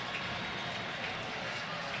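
A packed college football crowd at the Alerus Center during South Dakota State versus North Dakota roars steadily, a dense, unbroken wash of cheering noise filling the stadium.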